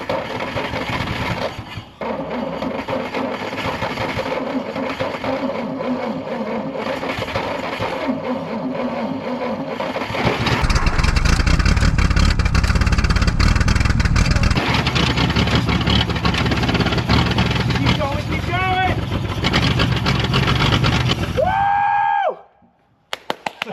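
A 1940 Plymouth Deluxe, parked for 65 years, cranks and then catches, its old engine running loud and rough before cutting off abruptly near the end.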